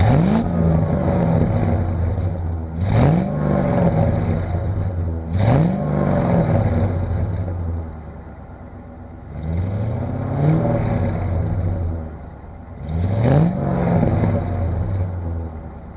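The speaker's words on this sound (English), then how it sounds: "I'm just gonna give you guys a bit of a rev here to show you the exhaust note. I love the sound of a 5-liter engine." A Lincoln 5-liter engine revs hard five times, each blip rising sharply and falling back to a steady idle in between, with a deep, loud exhaust note close by.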